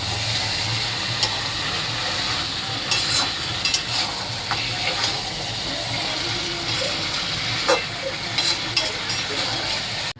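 Potatoes are stir-fried in a pan for a chicken and potato curry, a loud steady sizzle running throughout with occasional scrapes and clinks of a spatula being stirred.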